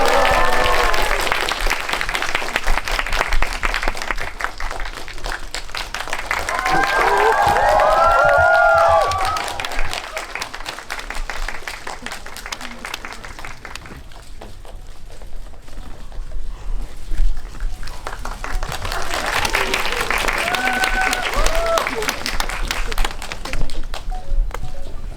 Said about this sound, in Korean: 큰 박수를 맞이해주세요.